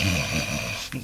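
In a read-along Mr. Men children's story, a narrator's voice imitates a single long, drawn-out snore, heard up close and alone.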